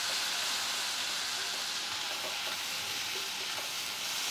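Chilli, cumin and coriander powders roast in a pan, making a soft, constant frying hiss with light scraping underneath, even and unbroken throughout.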